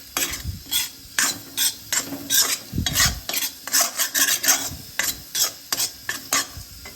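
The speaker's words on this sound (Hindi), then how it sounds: "यहाँ पे अच्छे से भुन गए हैं जो भट मैंने पीसे हुए थे ना, वो वाले अब थोड़ी देर और भून के फिर इसमें पापड़ डाल दिए" Ground bhat black soybeans roasting in a pan for dal, a rapid rhythmic series of dry scraping strokes, close and fairly loud, with a faint sizzle beneath and no talk.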